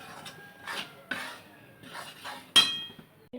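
Besan being stirred into ghee in a pan, with soft scraping and light clinks of a spoon against metal in a few short strokes and taps, close and fairly quiet.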